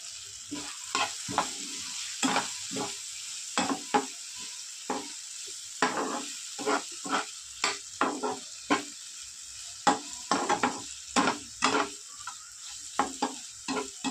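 Chicken with black pepper powder and a little chilli powder fries on a low flame, a soft steady sizzle punctuated by rhythmic spatula scrapes against the pan in irregular bursts, close up and without speech.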